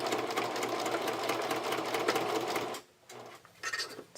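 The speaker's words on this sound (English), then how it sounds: "just be sure to do a good back tack at the start and end of your stitching line." A sewing machine stitches steadily and loudly up close with a fast mechanical whir, pauses briefly, then runs again in short bursts as if back-tacking at the end of the stitching line.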